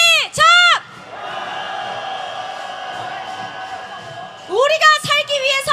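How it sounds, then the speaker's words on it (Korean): A street crowd shouts and cheers at a candlelight rally in Hongdae calling for President Yoon Suk Yeol's impeachment, a sustained roar of many voices swelling for several seconds between louder bursts of nearby whooping. "함성 시작!"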